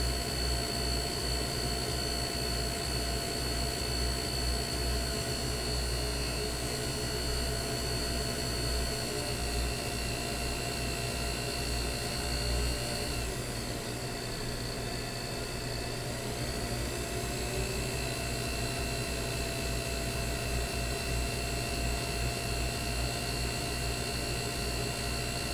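A jewel setting for a 21-jewel Illinois pocket watch being cut on a lathe, making a loud, steady high-pitched machine whine with a constant hum and no talking throughout.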